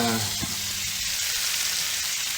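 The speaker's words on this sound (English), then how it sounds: "our meatballs are frying nicely." Steady, loud sizzling of meatballs frying in a pan, a continuous crackling hiss with a brief faint voice at the start.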